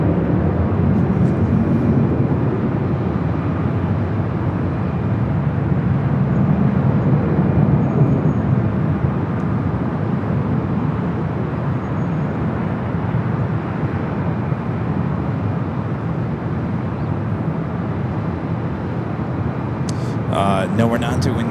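A Turkish Airlines Boeing 777-300ER inbound from Istanbul lands on the south side at LAX at night, heard as a steady, broad jet roar that holds loud and even throughout, with voices faintly present.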